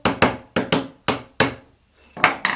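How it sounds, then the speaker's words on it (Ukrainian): Several sharp, close taps of a small hammer on a wooden Dadant beehive frame, in quick irregular pairs, with a brief pause before two more strikes. "Трошки молоточком поправили."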